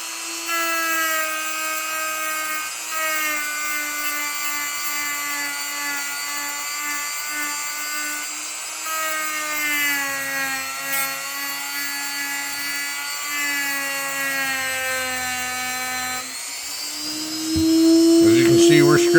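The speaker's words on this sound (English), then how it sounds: "We're grinding on the side of a Colt Python, folks." A grinder bites into the side of a Colt Python revolver, a loud, steady high-pitched whine that shifts slightly in pitch as pressure changes, continuous and close for the whole stretch, with someone talking briefly.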